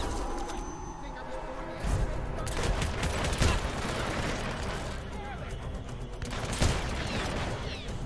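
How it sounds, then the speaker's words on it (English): Gunshots fired in the stealth shooter Hitman Absolution, three sharp reports spaced a couple of seconds apart, loud over dense game noise. "Why did that take three shots?"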